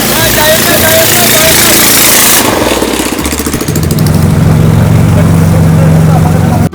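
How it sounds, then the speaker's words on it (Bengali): Motorized boats, two of them, approach together on a narrow river bend in the Bandarban hills near Alikadam, giving a loud broadband engine roar that settles into a steady droning hum, close and continuous throughout. "এখানে দুইটা নৌকা একসাথে আসছে"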